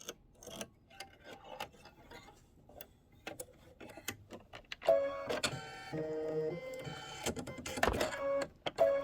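A home embroidery machine stitches detail onto a pink felt cover, ticking and clicking softly at first, then settling into a quiet, steady mechanical whir with repeating tonal hums.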